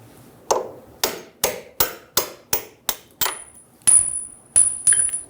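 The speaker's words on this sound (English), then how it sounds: "Using a hammer and a punch, I'm going to punch out the bolt." Hammer strikes drive a punch against a stuck bolt in the steering knuckle of a 2000-2007 Ford Focus front suspension: about a dozen sharp metallic knocks in a steady rhythm, close and loud, with a ringing tone in the later hits.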